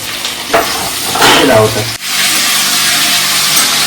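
Onion, potato and vegetable stalks fry loudly in a pan with a steady, dense sizzle, briefly stirred and scraped partway through, close and continuous, with faint voice in the background.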